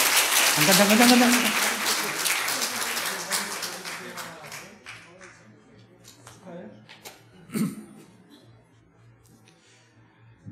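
Graduation audience applause rings out loudly at first, then thins to scattered claps and fades as a voice speaks briefly over the quieting room.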